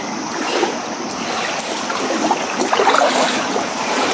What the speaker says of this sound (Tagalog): Naririnig ko na ang tinatawag nilang walang langit falls. Yung tubig na nanggagaling sa itaas ng langit.